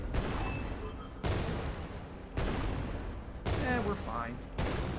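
Gunfire in the sci-fi video game Artificial Extinction, repeated bursts starting about every second over a dense, steady game backdrop with explosive rumble; no speech is heard over it.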